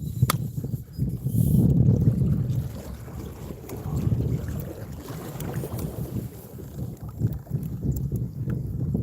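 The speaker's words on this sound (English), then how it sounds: "This wind is killing me." Wind gusting across a lake during a fishing trip from a small boat, a steady loud rumble battering the microphone, strongest early on and then continuing unbroken throughout.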